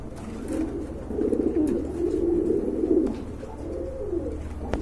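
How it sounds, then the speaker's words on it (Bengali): Domestic pigeons kept for sale coo continuously in low, throaty rolling phrases, close by and steady, with no talking over them. "এখানে কিন্তু আরেক জোড়া কবুতর আছে"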